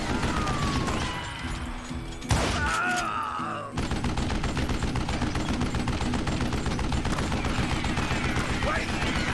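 Rapid automatic gunfire from a zombie video game, a dense, continuous rattle of shots with a brief burst of impact noise, loud and steady throughout.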